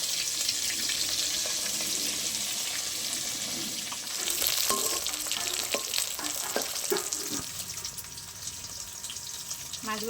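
Coated leitha fish frying in hot oil, a loud continuous hiss that grows busier as pieces go in, with crackling bursts and occasional utensil clinks throughout.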